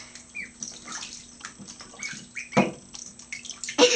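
Water splashes and drips in a bathtub holding pet turtles, with light irregular sloshes and a couple of sharper splashes near the end, close by and with no talk.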